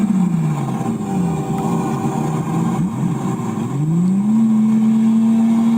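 A Lamborghini Murcielago's engine revs nearby, its pitch dipping and rising again through throttle blips over a loud, steady drone.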